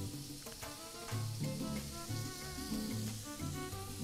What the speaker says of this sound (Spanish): Siempre moviendo el sartén para que se vayan cocinando las albóndigas